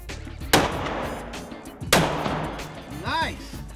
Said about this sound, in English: we're starting them out with the long gun, the Savage 22-250, because it is heavy, it has very little recoil, it is very accurate and simple to shoot